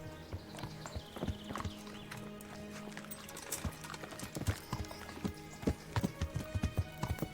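Horse hooves clip-clopping in Kingdom Come: Deliverance, steady rhythm over a quiet background, faint at first and growing louder and more distinct toward the end.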